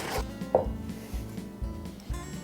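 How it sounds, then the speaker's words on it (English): Whole cloves ground with a mortar and pestle, a repeated rhythm of dull thuds and gritty scraping, close and moderately loud, with no talk. "as soon as you start grinding these cloves up"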